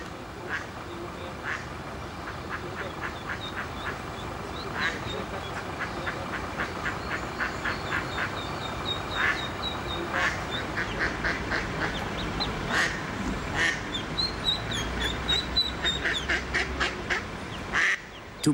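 A family of ducks quacking in Vienna, a continuous run of short, fairly close quacks in quick irregular succession over light outdoor city ambience.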